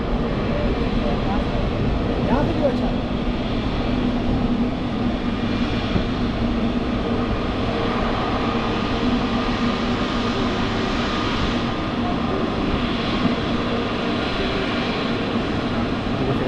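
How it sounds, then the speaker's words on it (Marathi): An airliner takes off at Chhatrapati Shivaji Maharaj International Airport in Mumbai. A steady, broad jet-engine roar fills the whole stretch, holding at a constant loudness from a moderate distance. "त्या फ्लाईटने वरती उड्डाण केली आहे"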